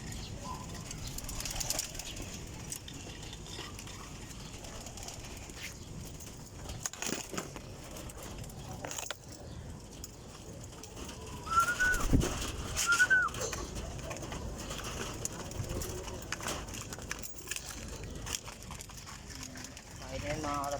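Pet pigeons feeding at close range, with soft scattered coos and wing flutters over a steady background murmur, a brief louder burst of activity midway, and someone talking in Tagalog throughout.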